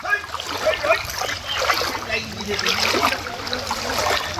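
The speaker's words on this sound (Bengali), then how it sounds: "জলের যা স্রোত আছে, খুব তাড়াতাড়ি এবারে জল ঢুকেছে অন্যবারের তুলনায়" Floodwater rushes past half-submerged houses along a main road, a loud continuous splashing wash that fills the whole stretch, with a voice speaking over it.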